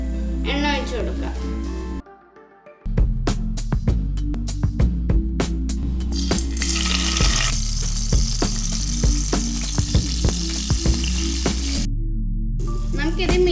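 Salted, turmeric-coated prawns for chilli prawns sizzle loudly in oil over a medium flame, a constant crackling fry dotted with pops and a short gap, while someone talks throughout.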